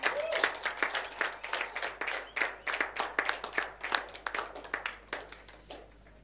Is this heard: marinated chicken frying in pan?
no